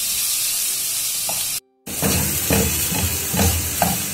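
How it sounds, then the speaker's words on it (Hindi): Garlic and ginger paste frying in hot oil, a bright, loud sizzle with a short gap of silence, then stirring scrapes repeating over the hiss. "ऑयल को गर्म करके इसके अंदर मैं ये लहसुन और अदरक का पेस्ट डाल दूंगी और इसको थोड़ा सा फ्राई करूंगी।"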